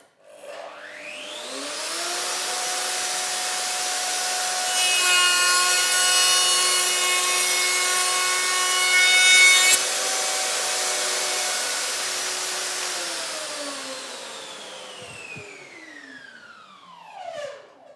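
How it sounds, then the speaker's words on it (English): Festool counterprofile cutter cuts a groove in wood with dust extraction running, a loud whining motor that spins up, holds a steady high tone with grinding while cutting, then winds down. "The first groove is cut now."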